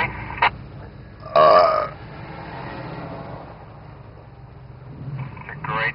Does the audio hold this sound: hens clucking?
no